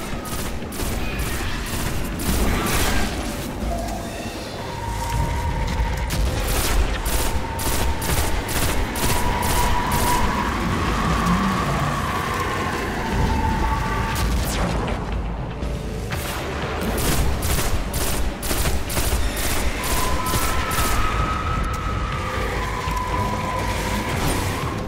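Rapid bursts of automatic gunfire fill a Destiny: The Taken King firefight, a dense rattling fusillade with brief pauses, layered with booming impacts and game effects.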